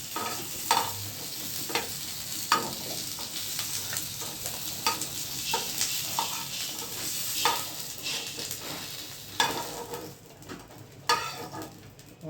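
Pointed gourd fries in a pan with a little oil, giving a continuous close sizzle punctuated by repeated spatula scrapes and stirs throughout, with no talking.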